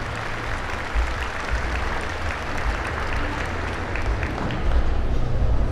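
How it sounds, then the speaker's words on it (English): A large crowd gives a sustained round of applause for leaders, volunteers and parents at a 4-H dairy cattle show, a dense, even wash of clapping that holds steady and swells slightly near the end. "Please give the leaders and the volunteers and the parents a tremendous round of applause as well"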